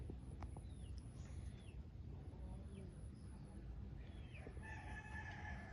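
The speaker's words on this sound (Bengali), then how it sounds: "মুরগি" Chickens cluck and a rooster crows faintly in the distance over a low, steady outdoor rumble in a waterlogged rural area, the calls thin and brief against the background.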